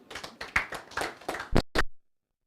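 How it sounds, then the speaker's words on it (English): A small audience at a stakeholders dialogue gives a short round of applause, with scattered close claps that bunch together and then stop abruptly after about two seconds. "A round of applause."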